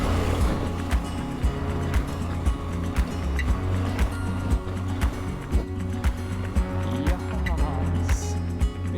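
A Triumph Tiger 900 Rally motorcycle engine runs at low revs while riding off road over slippery, rooty ground, a steady loud rumble with periodic knocks and bumps throughout.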